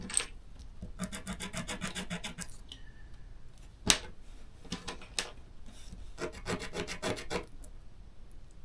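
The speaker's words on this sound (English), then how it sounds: "I'm just going to take a little piece of sandpaper and flatten it out." Small piece of sandpaper rubbing over tiny miniature couch parts: close, dry rasping strokes in short bursts with brief pauses and a sharp knock in between.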